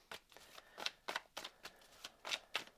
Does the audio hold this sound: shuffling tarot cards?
yes